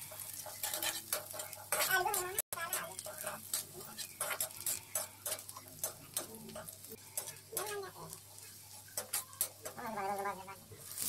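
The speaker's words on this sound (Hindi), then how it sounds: "फिर प्याज चलाएंगे। देखिए ब्राउन हो रही है प्याज।" Onions browning in a pan are stirred for UP-style chana nimona, with close scraping and clinking of a spoon over a light sizzle, while someone talks throughout.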